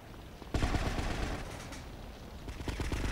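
Gunfire in GTA Vice City Stories, a loud volley kicking in abruptly after a quieter start and continuing as rapid shots, with another cluster of bursts near the end.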